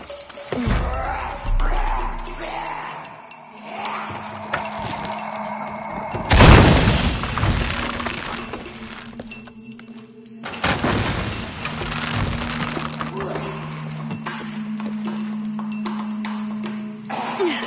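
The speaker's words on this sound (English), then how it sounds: "Have to create an explosion." Explosion in the video game Tomb Raider: a loud broadband blast bursts out around the middle, followed by a second rumbling burst with crackling debris, over steady low game ambience.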